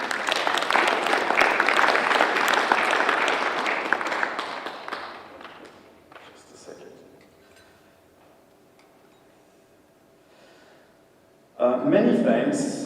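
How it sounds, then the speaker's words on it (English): Audience applause for award laureates at a palaeontology award ceremony, loud clapping for about four seconds that tapers off into quiet room sound, then a voice starts speaking near the end. "Well-deserved applause."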